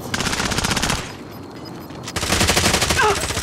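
A sentry gun fires in the video game Call of Duty Warzone. Rapid, loud automatic bursts rattle at close range, pause for about a second and then resume.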